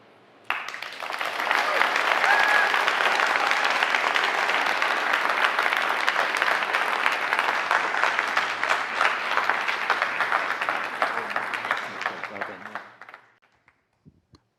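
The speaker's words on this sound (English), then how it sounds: "Can we give another round of applause, actually, for that one?" Audience applause at a TEDx event at Loughborough University follows a talk, a dense, steady wash of clapping that swells quickly, holds loud for about twelve seconds, then fades out abruptly.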